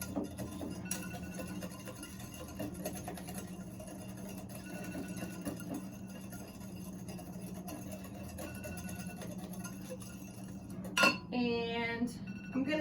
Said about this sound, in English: I'm just going to mix that together.